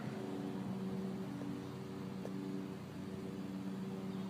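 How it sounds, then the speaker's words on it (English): Lawnmower running outdoors, a faint, steady engine drone with a constant hum that holds throughout without revving, heard from some distance with no talking. "That's a lawnmower."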